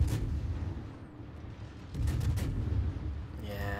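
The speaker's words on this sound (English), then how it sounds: "Yeah, Kerfus is busy shooting something else." Ship guns fire during a naval battle video game, a few booming shots and rumbling blasts that rise and fall over a low background din, quiet in the mix.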